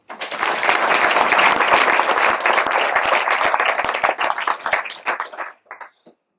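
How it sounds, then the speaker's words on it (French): A crowd at a mayor's New Year ceremony in Ruffiac breaks into lively hand-clapping, dense and close at first, then thinning into scattered claps before stopping. "On peut les applaudir."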